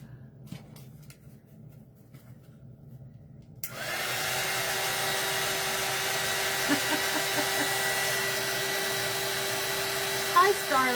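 A hair dryer switches on after a few seconds of quiet room sound and runs as a loud steady whir over felt fabric pieces, with a person talking faintly beneath it.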